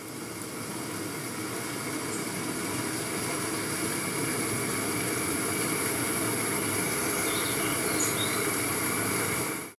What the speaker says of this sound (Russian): Вы слышите звук водопада?